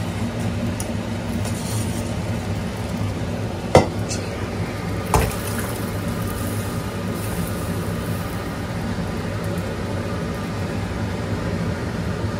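Rajma gravy simmers in a pot on a home stove, giving a steady low bubbling sizzle with occasional scraping stirs and two sharp clinks of a spoon against metal, close and continuous with no talking.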